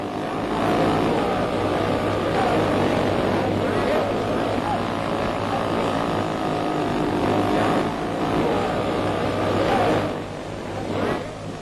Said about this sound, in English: Another fine takeoff, and a stunt flight that's even more thrilling, to her owner anyway, than the real thing.